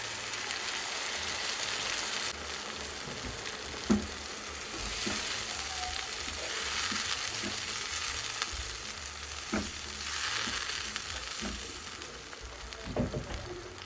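Ground ginger, garlic and tomato paste sizzles in hot oil with onions in a pan for a green gram curry, a steady close frying hiss with occasional stirring clicks and scrapes, no voices.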